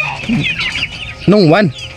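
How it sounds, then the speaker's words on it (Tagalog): Nearby hybrid turkeys call with warbling, gobble-like notes, one loud wavering call near the end over steady background noise. "aking mga alagang pabo na hybrid"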